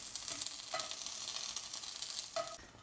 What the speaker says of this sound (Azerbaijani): Onları da qoyduq tavaya və qızartmırıq